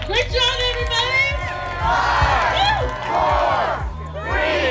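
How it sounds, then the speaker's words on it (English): A crowd at an outdoor neighborhood mural and lights reveal cheers, whoops and shouts loudly and continuously, with children's voices rising through the noise. "So one more round of applause."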